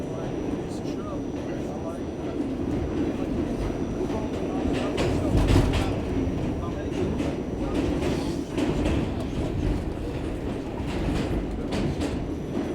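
A New York City subway express train rolls out from Times Square–42nd Street on a weekday afternoon with a steady loud rumble and rattling clatter of wheels on track, interior noise throughout, and someone talking over it.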